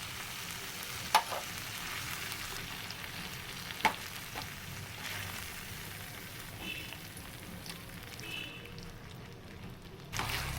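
Masala and curd roasting in ghee for paneer ghee roast, a continuous soft sizzle and crackle with a few sharp spatula taps against the pan, no talking.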